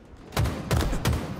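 Three separate gunshot bursts fire in Halo Infinite gameplay. Each one is a sharp, punchy report about a third of a second apart, loud and alone over a low background hum.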